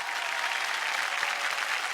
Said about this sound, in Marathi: एकदम जोरदार टाळ्या झाल्या पाहिजेत